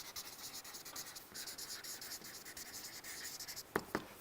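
A pen scratches steadily across paper, close and continuous, followed by two quick sharp taps near the end.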